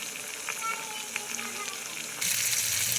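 Chicken chana masala sizzles and fries steadily in a pan with garlic, chilli paste and chilli powder, the hiss jumping louder near the end as tomato puree or more ingredients hit the hot oil.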